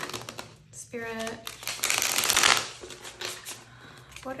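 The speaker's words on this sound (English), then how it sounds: "Do a quick shuffle." Tarot cards get a quick shuffle close by, rapid riffling flutters that rise and fall over several seconds, with a little talk alongside.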